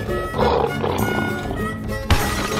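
A lion roars loudly and close for about two seconds, with a rough, broad growl that ends in a sharp thump, heard during a guess-the-right-door escape room challenge game.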